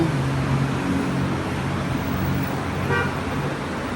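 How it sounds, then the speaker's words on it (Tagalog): Busy street traffic in front of a shop, a steady dense roar of passing vehicles with a short horn toot near the end, sounding close and continuous with no talk. "ito yung nangyari sa tapat na shop namin, traffic oh."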